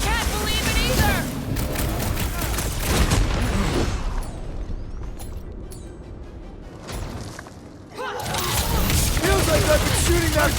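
Heavy gunfire from a big gun in the Guardians of the Galaxy action game, a dense sustained barrage of shots and booms with a brief lull in the middle before the firing resumes loudly.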